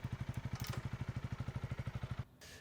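A motorcycle engine idling with an even, rapid pulsing thump for about two seconds before cutting off abruptly, close and fairly loud.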